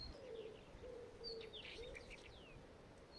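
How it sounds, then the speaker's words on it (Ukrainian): Birds sing on an evening at a garden plot in cold weather: scattered high chirps and a soft, cooing note over a steady background hiss, moderately distant and fairly faint. "Пташки надвечір співають."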